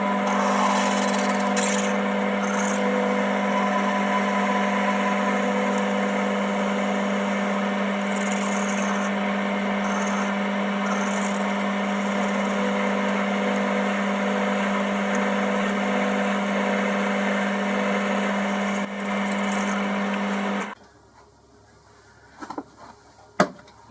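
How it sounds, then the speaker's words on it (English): A power drill fitted with an 8mm tap cuts thread into a tube insert for a camera sky hook mount, a steady loud whine with a fixed hum running about twenty seconds before stopping abruptly, followed by a few faint clicks. "Use this drill to tap it. I've got an 8mm tap in there."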